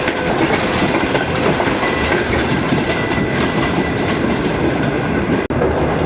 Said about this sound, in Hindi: तो अभी थोड़ी सी स्पीड पकड़ेगी ट्रेन ब्रिग रोड और लांडी के बाद